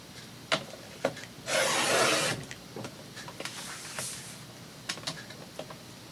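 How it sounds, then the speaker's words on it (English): Paper being trimmed along its edge for an envelope opening: a soft sliding rasp lasting about a second, surrounded by light taps and clicks from crafting tools on a tabletop, close and quiet. "we're just going to trim a hair off the edge"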